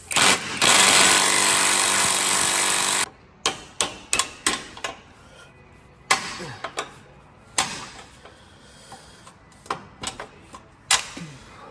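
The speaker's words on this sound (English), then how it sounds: "A little smack of a hammer." A loud sustained grinding noise gives way to a series of sharp hammer strikes on a Jeep's metal bumper, irregularly spaced and close up.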